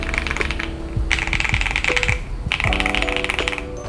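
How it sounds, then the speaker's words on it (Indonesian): Mechanical keyboard fitted with Akko Cream Blue V3 switches, typed in quick close bursts of crisp clacky keystrokes separated by brief pauses, with faint tonal sounds underneath. "Ini suara Akko Cream Blue versi 3."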